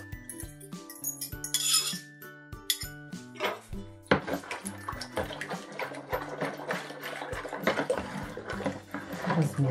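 Rapid, continuous clinking and scraping of a utensil whisking eggs in a bowl, steady and close, with some clattering dishes at the start.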